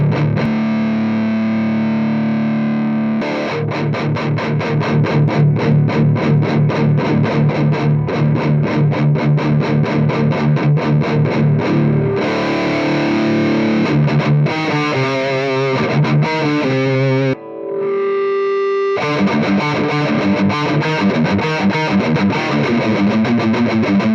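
A Mesa Mark V 25 amp pushed into a heavily distorted metal tone, with loud, tight chugging riffs and sustained chords that drop out for a moment near the end before the riffing resumes.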